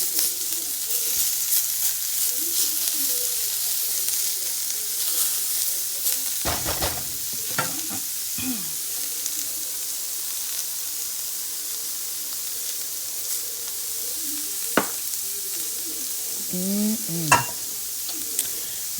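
Beets and mixed vegetables in teriyaki sauce cook in a skillet, giving a continuous sizzle with scattered spoon scrapes and clinks against the pan, a few sharper knocks standing out near the end.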